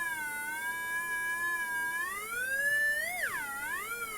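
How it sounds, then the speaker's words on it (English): Homemade theremin playing a sustained, wavering electronic tone that holds steady, then swoops up and dips sharply down, loud and continuous with no talking. "That's Mike working the theremin he made from the old episode"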